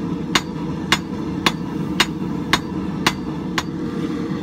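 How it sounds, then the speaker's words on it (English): A hammer strikes 1/4 inch square nail stock on an anvil while forging a taper, seven sharp, evenly spaced blows ringing out close by over a low steady background hum. "So what you should be able to do is forge you out a taper on your square around whatever you're starting with."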